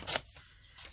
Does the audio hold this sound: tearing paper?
yes